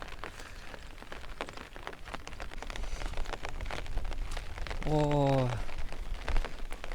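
Continuous rain falls on surfaces in a rainy-season hill landscape, a dense steady patter throughout, with a brief voiced exclamation near the middle.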